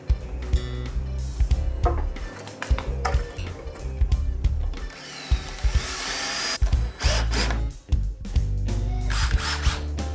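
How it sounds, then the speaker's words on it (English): A power drill with a hex bit drives hex screws into a wooden decking frame, whining in repeated bursts that rise and stop as each screw seats, close and loud, with knocks and handling sounds between runs. "now I'm going to screw the frame together, make a frame. I've got some hex screws and a hex drill bit."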